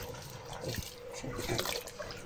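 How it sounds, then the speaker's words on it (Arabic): Water pours and splashes steadily into a cooking pot while Egyptian koshari is being made, a continuous close, fairly loud gush with small splashy spikes and no talk over it. "احط له برده ميه تاني شايفين"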